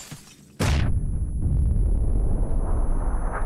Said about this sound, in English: All sorts of nades.